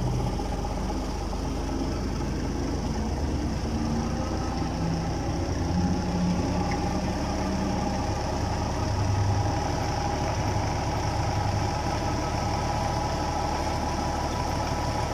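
Tractor engine idling steadily in a village setting, a continuous low chugging rumble with an even mechanical drone throughout, close and unbroken.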